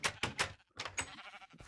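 Sheep bleating in the TerraFirmaCraft mod for Minecraft, several quick close bleats in a row followed by a few more after a short gap, fairly faint with no talk.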